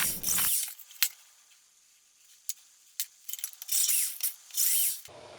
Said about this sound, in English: marked out where I was going to be drilling the holes